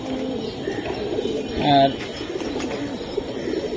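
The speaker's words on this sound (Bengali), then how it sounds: "এইটা হচ্ছে রাব্বানি লাইনের কোয়েল ভাইয়ের কবুতর দেওয়া করা কবুতর, নর কবুতর" A male pigeon, a khaki-eyed cock bird for sale, gives a short, fairly loud coo burst near the middle while someone talks over steady background noise.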